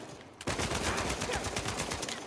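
A burst of rapid gunfire in the video game Uncharted 4 starts abruptly and continues as a loud, dense rattle of repeated shots.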